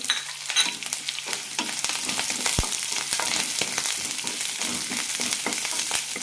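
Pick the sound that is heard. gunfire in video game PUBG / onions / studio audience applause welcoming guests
onions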